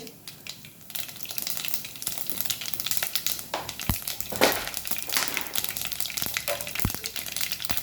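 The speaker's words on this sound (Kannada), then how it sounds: "ಎಣ್ಣೆ ಕಾದ್ಮೇಲೆ ಜೀರಿಗೆ ಸಾಸಿವೆ ಸಾಸಿವೆ ಚಿಟಿಪಿಟಿ ಅಂದಮೇಲೆ ಜೀರಿಗೆ" Mustard seeds and cumin crackle and pop in about three tablespoons of hot oil in a pan, a steady close sizzle dotted with sharp spits and snaps, with no talking over it.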